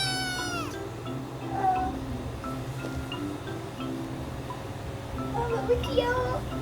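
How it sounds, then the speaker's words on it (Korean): A newborn kitten of a stray cat mews in thin, high cries, first clearly at the start and then fainter and intermittent over a steady low background hum. "여기서 사는 길고양이가 낳은 애기인가 봐요."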